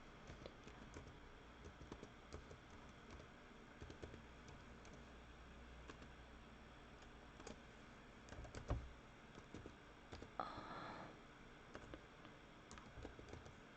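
Fingers type an email address on a computer keyboard, a steady quiet patter of soft key clicks running throughout, close and faint with no talk.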